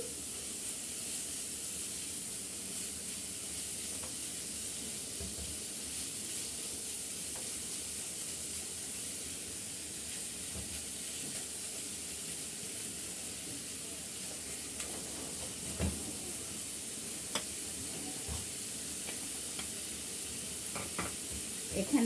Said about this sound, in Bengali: এখন আমি ভালো করে মশলাটা মিক্স করে নিচ্ছি